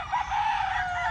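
A young rooster (stag) crows close by in a short, loud burst mixed with clucking, heard alone.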